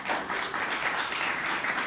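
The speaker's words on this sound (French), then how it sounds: "Nous applaudissons ça." A crowd at a Catholic event on a live broadcast breaks into dense, steady applause, with many hands clapping continuously at close range.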